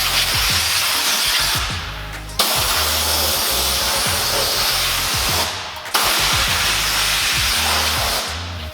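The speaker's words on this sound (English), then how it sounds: "it's easier just to blow them out with the air gun" A compressed-air gun blasts debris out of a car's cowl below the windshield, a loud, steady, close hiss running almost continuously, broken by two brief pauses before the blast resumes.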